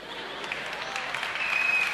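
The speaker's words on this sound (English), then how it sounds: "Why are you clapping, man?" An audience at a youth fest sermon applauds, a steady patter of clapping from a crowd that swells slightly toward the end, with no speech over it.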